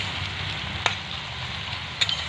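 Onions for chicken kosha frying in a pan give a continuous close hiss and sizzle, with two sharp utensil taps breaking the steady crackle.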